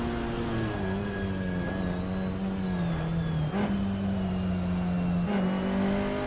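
A historic 1.6-litre racing car in a racing video game drones at a steady, buzzing pitch, with brief shifts and dips as it revs through corners, loud and continuous with no talk.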